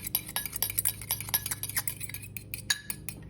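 A utensil stirs homemade cocktail sauce in a bowl, producing quick repeated scraping clinks against the sides in an uneven rhythm, close and fairly quiet, with no voices.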